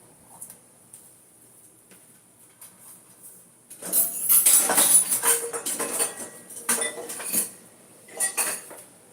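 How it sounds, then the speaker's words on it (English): Kitchen items including utensils and dishes being washed in a sink, with quiet opening then a burst of clinking, clattering and running-water noise from about four seconds, fading and returning in short bursts near the end. "Okay, all of this goes in the sink. A quick wash, of course, will help all of these items."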